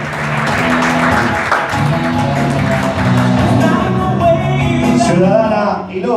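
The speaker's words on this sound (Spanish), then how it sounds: "mientras la recibimos con un muy, pero muy fuerte aplauso" An audience at the Arroyitense 2019 award ceremony in Arroyito applauds steadily as an honoree is received on stage, sustained clapping layered under background music and a few voices.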